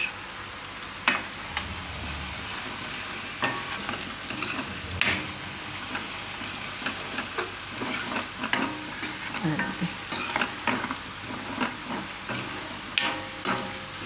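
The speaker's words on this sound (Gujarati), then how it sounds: "હવે આમાં આપણે નાખી દઈશું હિંગ. અને હળદર." Asafoetida and turmeric are dropped into hot oil in a pan for garlic raita. A continuous close sizzle is broken by frequent scraping stirs and clicks of a spoon against the pan, with no talking.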